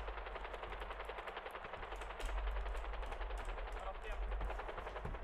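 Dense, sustained automatic gunfire rattles through a GTA V aerial shootout during a vault heist, with rapid bursts layered over a low aircraft drone and voices calling out beneath.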